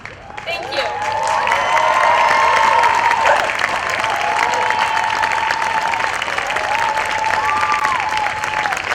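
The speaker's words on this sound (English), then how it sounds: "keep applauding" A crowd at an outdoor rally against a freeway expansion breaks into sustained, loud applause, with cheers rising over the clapping and a few voices calling out in the mix.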